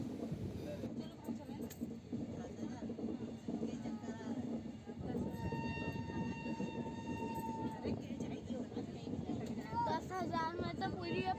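Indian passenger train with locomotive and coaches rolling along the tracks, a steady continuous rumble with clatter and wind noise throughout, some tonal squeal midway, heard with people talking over it.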